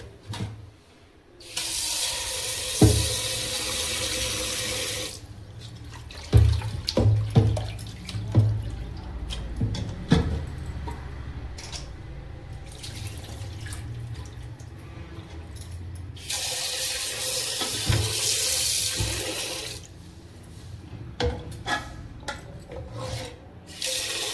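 Tap water runs steadily into a sink while goat liver is rubbed and rinsed by hand in a kitchen, the flow rising and falling with splashes and wet handling noises, close and continuous, no voices.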